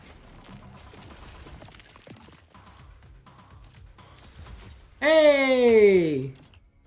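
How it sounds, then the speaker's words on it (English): Shock Spectre firing an auto sniper rifle in a video game: quiet mechanical clicks and rattles, then a sudden loud burst of sweeping, descending electronic energy discharge near the end. "You get a Shock Spectre firing an auto sniper rifle"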